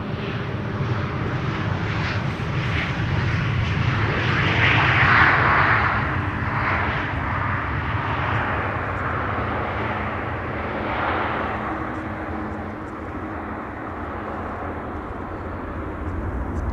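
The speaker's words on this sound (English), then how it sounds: "Norwegian coming in from Stockholm, next to land." A Norwegian airliner from Stockholm comes in to land at Amsterdam Schiphol, its steady jet engine roar loud and continuous throughout, swelling slightly partway before holding level, with no voices.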